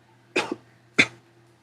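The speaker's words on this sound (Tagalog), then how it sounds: "namamaga ang mata at parang gusto ng umubo." Two separate coughs from a person with a swollen-eyed cold, each a short harsh burst, the first with a small second catch, spaced about half a second apart, close and fairly loud against a quiet background with a low steady hum.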